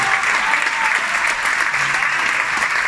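A theatre audience at the Teatro Orfeo in Taranto gives sustained, dense applause at the close of a comedy performance starring Biagio Izzo, steady and loud throughout with no pauses.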